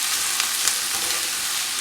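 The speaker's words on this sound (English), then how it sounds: "I'm going to saute these till they are" Onions sauteing in a pan give off a steady, close, even sizzle with faint crackles throughout, and no one speaks.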